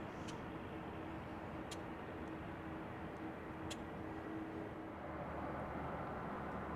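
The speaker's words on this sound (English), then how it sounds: "Is this Airbus A320?" An Airbus A320 at a runway at Dallas Fort Worth airport, heard as a faint, steady, distant engine rumble with no voices.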